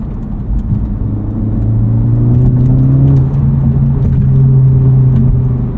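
Exhaust of a 2023 Honda Civic Type R with front resonator delete, heard from inside the cabin: a loud, close, steady engine drone and rumble whose pitch climbs and then eases off throttle, alone without talk.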